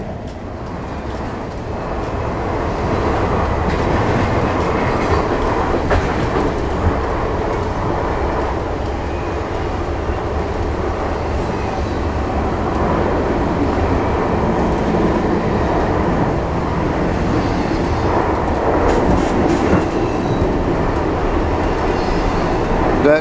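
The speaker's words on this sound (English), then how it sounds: "That's a normal freight train going its normal speed." A freight train rumbles past close by at about 80 km/h, a loud, steady roar of wheels and rattling cars that holds for the whole stretch.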